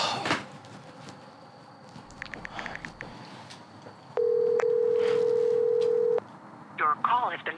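A phone is dialed for a call: brief tones, then a steady electronic tone holds for about two seconds, with faint voices and movement around it.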